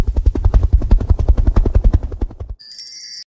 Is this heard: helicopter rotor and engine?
yes